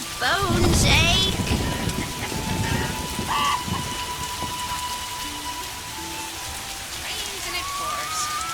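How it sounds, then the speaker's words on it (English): Rain with rumbling thunder in a village outskirts area in the video game The Witcher, a steady downpour with a heavier swell at the start, and voices speaking over it. "How sad when it rains."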